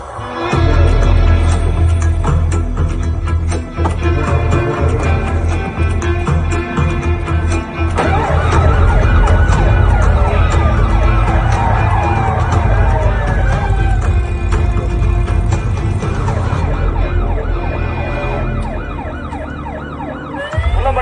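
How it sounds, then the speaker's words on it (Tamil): An ambulance siren wails continuously with sweeping rising and falling tones over loud, steady road and engine rumble. "ஏரியாக்குள்ள ஒரு ஆம்புலன்ஸ் ரொம்ப நேரம் சுத்திட்டு இருக்கு."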